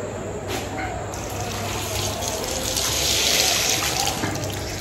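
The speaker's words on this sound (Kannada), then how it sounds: "ಹ್ಯಾಂಡ್ ವಾಶ್ ಮಾಡ್ಕೊಳಕ್ಕೆ ಬಂದಿದ್ದೀನಿ." Tap water runs steadily into a sink as hands are washed at a college, a continuous splashing hiss that swells slightly toward the end, close and moderately loud with no talking.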